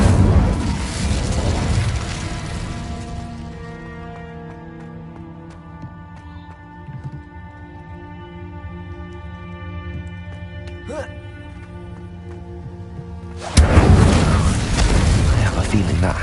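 A fiery Incendio spell blast roars at the start in Hogwarts Legacy and fades into tonal, ringing game ambience, before another loud burst of fire erupts near the end.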